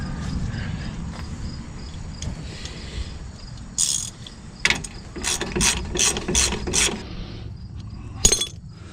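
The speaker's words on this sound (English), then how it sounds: "Ratchet." A ratchet clicks while working on the rear axle of a 2003 Dodge Ram 1500, with a series of sharp, close, rhythmic clicking bursts amid quieter mechanical rustling.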